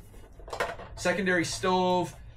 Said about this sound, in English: Comes with a pan. Then there's a pot.